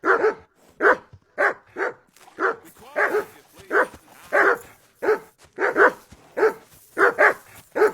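Repeated dog barking from a companion mutt in the video game Kingdom Come: Deliverance 2, at a riverbank camp; about fifteen loud, close barks and yips in an insistent, irregular rhythm, with no talk over them.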